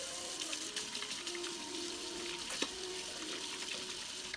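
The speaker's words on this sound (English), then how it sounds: "Wash those hands, 20 seconds, soap and water." Running tap water at a sink while a child washes hands with soap, a steady hiss of flowing water with faint splashes, heard alone at low level.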